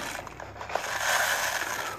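Dry oat flakes pour from a storage tube's spout into a small measuring cup, giving a steady close rustling, crunchy patter that runs for about two seconds with no talking.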